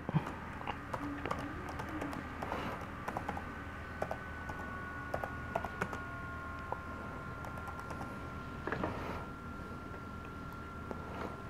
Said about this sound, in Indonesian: saya harus memasukkan kata sandinya lagi oke saya coba ketik